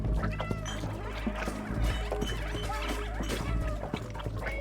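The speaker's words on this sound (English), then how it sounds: "just spamming that meow button so that the slowdown does not happen when the Zerks attack" A cat character in the video game Stray meows over and over in quick succession, mixed into a dense bed of game music and effects.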